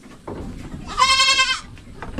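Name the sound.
goat bleating on a farm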